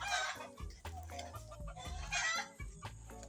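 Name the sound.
chickens clucking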